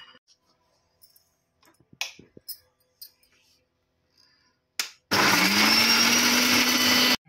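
Several quiet clicks and taps come first, then a blender roars on loud and close for about two seconds, pureeing tomato pieces with dried red chillies and sugar for street-food-style veg pasta.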